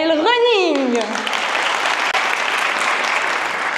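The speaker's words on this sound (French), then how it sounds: "Merci de faire un tonnerre d'applaudissements pour la team Trail Running." A brief spoken voice gives way to loud, dense crowd applause for a trail running team at a sport-health event, the clapping swelling and holding steady to the end.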